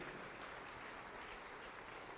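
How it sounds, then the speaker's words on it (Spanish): A church congregation claps for Christ during a Spanish-language worship service, a steady dense wash of many hands held at an even level throughout with no voices standing out. "Con ganas, con ganas las palmas, vamos todos."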